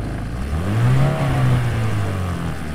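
A car engine revs as a sound effect synced to driving footage, a close mid-pitched rise in RPM that swells, holds briefly and eases back down within a few seconds, alone without speech.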